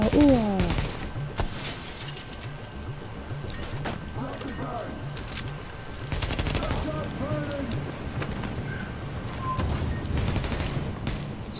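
Gunfire in the video game Tom Clancy's The Division, with bursts of rapid shots and sharp reports scattered through a busy game mix, partly under voices talking.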